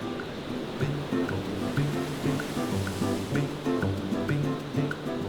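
Ocean surf rolls onto Bondi Beach, where high swells come in from the South Pacific; the waves wash in a continuous rushing roar, mixed with soft tonal background music.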